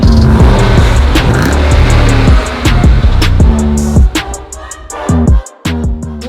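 A 2018 Jeep Grand Cherokee Trackhawk SUV roars loudly and close, its engine revving in rising and falling sweeps with sharp shifts, a brief lull near the end before it surges again.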